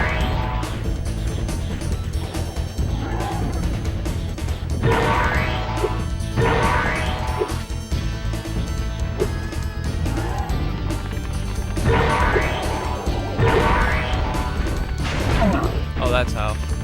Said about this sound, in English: He smashes rocks and he smashes himself.